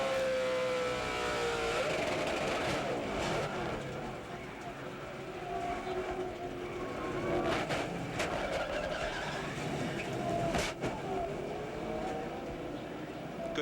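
On-board sound from a race truck at New Hampshire as it hits the wall after the outer tire goes down: a roaring engine drone with sharp impact bangs and scraping, with a commentator talking over parts of it.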